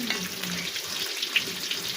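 Potato chops sizzle steadily in hot oil in a home kitchen, a continuous close frying hiss with no talking over it.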